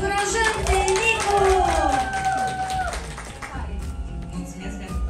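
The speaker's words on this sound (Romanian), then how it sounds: "Haideți să-l aplaudăm, să-l încurajăm pe Nicu!" Guests at a birthday party in Cahul clap together, a steady burst of applause mixed with voices and a sung or spoken tone that fades after about three seconds.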